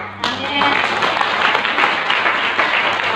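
An audience applauds during a Christian sermon on marriage, with dense, steady clapping from a crowd that starts suddenly and keeps going at an even level.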